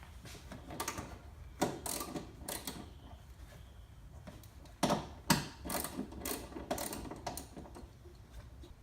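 Ratchet clicks and metallic mechanism sounds while removing two 10mm factory airbox mounting studs on a 2017 Nissan Titan Pro 4X 5.6L gas truck, coming in irregular close bursts with short pauses between them.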